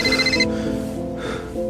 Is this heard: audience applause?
no